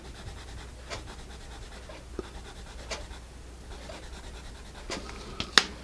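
An HB graphite pencil, a Mitsubishi 9852, scratches softly across paper in quiet, irregular strokes, close and faint, with a few sharper ticks near the end.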